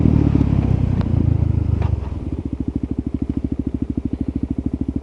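A cammed motorcycle engine idles close by, settling from a rougher rumble into a loud, choppy, loping pulse.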